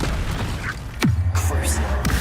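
A Confringo spell explosion in the Hogwarts Legacy video game, heard as a swooping burst that drops into a deep sustained boom, with a voice speaking over the start and a further pop near the end.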